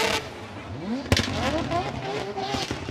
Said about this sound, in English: Long e-brake pulled by Nakamura.